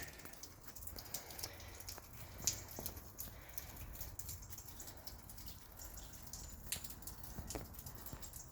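Rain falls outside a goat shelter cave on a hillside near Andratx, Mallorca, heard as faint scattered drips and patters over a low steady hiss, with no voices.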